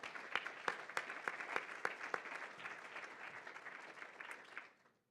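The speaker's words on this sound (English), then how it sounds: "I think we owe them a big round of applause" Audience at a research institute conference breaks into applause, a steady wash of many hands with a few sharper individual claps near the start, holding evenly before fading out at the end.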